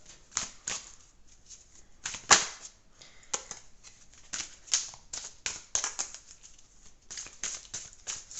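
Tarot cards being shuffled by hand, a run of crisp papery riffles and slaps in irregular bursts, close and fairly quiet, with one sharper snap partway through and no talking.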